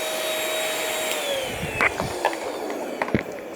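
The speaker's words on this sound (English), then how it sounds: "or I could just vacuum the couch like this" A Bissell Featherweight stick vacuum runs over couch upholstery with a steady whining drone, broken by soft thumps and rustles as the nozzle moves across the cushions.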